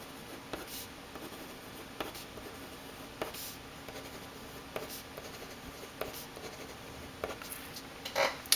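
Paper Mate EraserMate pen writing on paper, close scratchy strokes in short bursts with brief pauses between them, fairly quiet against a faint steady background tone.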